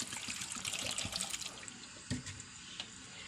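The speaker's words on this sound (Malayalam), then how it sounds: "പാകത്തിനുള്ള വെള്ളം ഒഴിക്കണം" Water splashes and streams into a cooking pot holding chopped raw plantain, then slows to a few drips and small sloshes.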